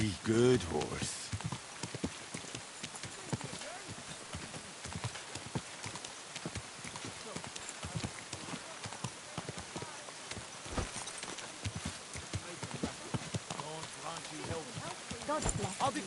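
Horse hooves clip-clop steadily through most of the stretch in the medieval game Kingdom Come: Deliverance II, with a voice speaking over the hoofbeats and a soft rain-like hiss in the background.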